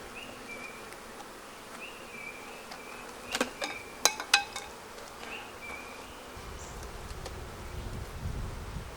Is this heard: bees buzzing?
yes